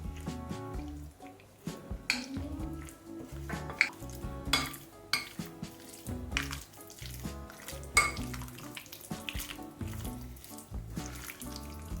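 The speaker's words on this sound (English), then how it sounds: "Mix until the chicken pieces are uniformly coated with the flour mixture." Chicken pieces being tossed with flour and cornstarch in a bowl give repeated clinks and scrapes of a utensil against the dish, close and fairly quiet, with no talking.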